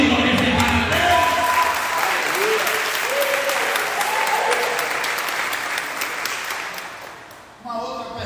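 A church congregation applauds during a celebration worship service, a broad, steady clapping that fills the room and slowly fades toward the end, with a voice audible at the start and again at the close.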